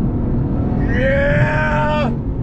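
A Lexus RC F Fuji Speedway Edition engine accelerates hard on the throttle at a racetrack, a loud, rising tone that holds for about a second before cutting off sharply, over steady road and wind noise.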